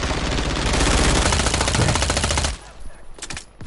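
Rapid, sustained automatic gunfire from a video game rattles loud and close for about two and a half seconds, then cuts out, leaving a few scattered shorter bursts.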